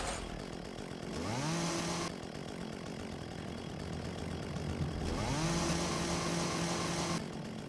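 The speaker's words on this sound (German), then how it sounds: "Kettensäge." A chainsaw in Lucius 2 The Prophecy revs up twice, each time rising from a rumble into a steady high whine for about a second before dropping back to a loud idle, with no voices.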